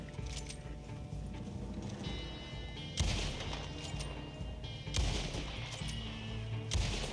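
Video game gunfire plays as repeated loud bursts of shots at roughly two-second intervals, with background game music and no speech.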